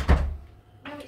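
A pub door at the White Swan in Blyth, Nottinghamshire, opening or closing with a low dull thunk, followed by quiet and then a brief soft rustle, heard at moderate distance during a ghost hunt.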